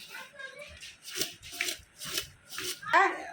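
Food is stirred in a cooking pan with roughly rhythmic scraping and rubbing strokes about twice a second, close and fairly soft, with a voice speaking over it.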